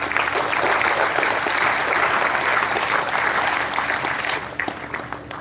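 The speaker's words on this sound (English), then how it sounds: "So applaud yourself for that." A room of participants at a college tech festival event applaud themselves, a loud, dense round of clapping that holds steady and then thins out and fades over the last second.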